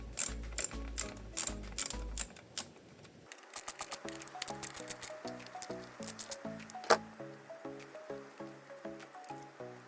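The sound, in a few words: ratchet with 8mm socket removing coil bolts, Mazda engine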